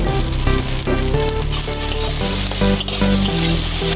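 Beaten egg, with coriander leaves, fries dry and crumbly like bhujia in a pan, giving a loud, continuous close sizzle with repeated scraping stirs throughout and no voices.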